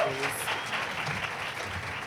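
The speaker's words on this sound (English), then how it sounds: "let's have a little applause for our manservant, Israel" A DragCon crowd applauds the manservant Israel, a continuous wash of clapping and cheering that holds steady and fairly loud from start to finish.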